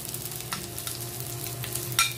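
Onion, garlic and ginger sautéing in a pan for chicken curry, a soft continuous sizzle with light stirring scrapes and a brief clink near the end.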